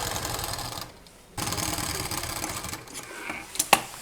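Sewing machine stitching the border of a single bed cover made from a saree, running in steady dense bursts with a brief pause, ending with a couple of sharp clicks.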